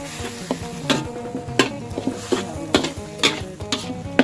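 Isan-style tilapia larb being stirred on low heat with fermented fish sauce (pla ra) and chili flakes, giving a soft sizzle broken by repeated scraping and clinking stirs of a utensil against the pan at a loose, uneven rhythm.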